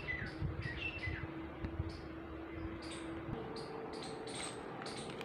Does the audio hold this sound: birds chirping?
yes